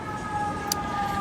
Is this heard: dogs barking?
no